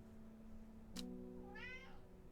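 A cat meows once in the Strange Horticulture video game, a short rising-and-falling call that follows a brief click over a steady low background hum.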